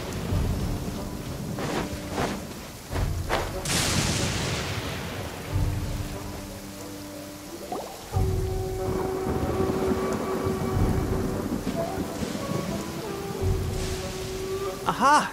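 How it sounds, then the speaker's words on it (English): Rain falling steadily with deep rolling thunder in the Genshin Impact video game, loud rumbles building and fading under the continuous patter, with a voice speaking now and then. "Don't stay out in the rain for too long."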